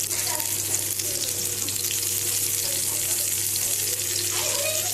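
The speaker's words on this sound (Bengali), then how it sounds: "ফুলকপি দিয়ে রান্না করলে বেশি ভালো যে ফুলকপিটা ভাজা ভাজা হয়ে এসছে" Cauliflower florets fry in oil in a pan, a steady close sizzle and crackle running evenly throughout with a low hum beneath, no voices.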